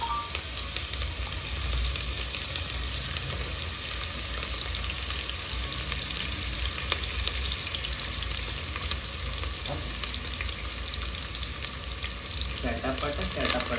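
Chicken gizzard and liver frying in oil in a pan, a dense continuous crackle and sizzle held at an even level throughout, with faint occasional stirring and no talk.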